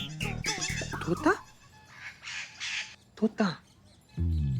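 A pet parrot squawks in an indoor scene from a Hindi TV drama, giving harsh, crow-like calls that alternate with people talking nearby.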